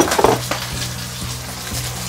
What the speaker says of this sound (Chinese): 我们现在加一些水哈，去把它煎熟了